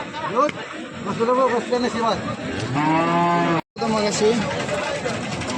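Cows moo loudly and repeatedly at the Sangola cattle market, with long drawn calls rising and falling amid busy crowd voices and chatter.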